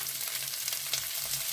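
Carrots, beans, capsicum and onion stir-frying in hot oil for a quick Maggi chaat, a steady close sizzle and crackle with faint stirring, no voices.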